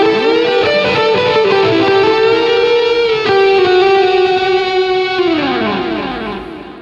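A massive electric guitar lead tone from a Line 6 Helix LT with delay and reverb. Sustained, bending notes ring loud and close, and the echoing repeats trail off into a fading reverb tail.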